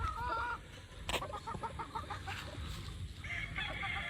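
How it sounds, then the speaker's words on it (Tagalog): Breeding hens and pullets cluck close by in a rooster yard, short rhythmic clucks and calls with a brief bright squawk, loud and alone. "Unahin ko na po pakita yung mga inahin natin na gagamitin para dun sa mga brood stag natin"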